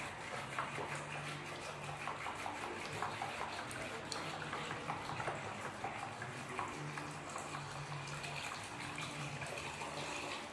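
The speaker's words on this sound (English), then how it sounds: "take my container here and start to pour the vinegar" Homemade sugarcane vinegar pours steadily from a container in a continuous, soft splashing trickle, close and fairly quiet throughout.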